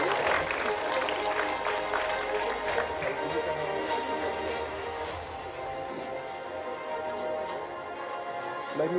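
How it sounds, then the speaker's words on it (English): Crowd applause at an award ceremony welcoming a speaker to the stage, steady dense clapping that carries through the whole stretch and eases slightly toward the end. "Please join me in welcoming him to the stage with a warm round of applause"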